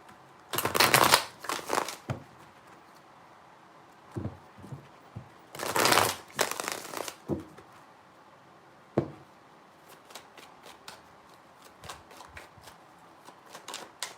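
A deck of tarot cards is shuffled up close in two loud riffling bursts, followed by scattered lighter taps and card handling in a quiet room.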